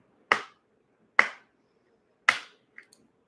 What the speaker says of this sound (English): I'm going to just knock some energy and then shuffle again for you, Annika.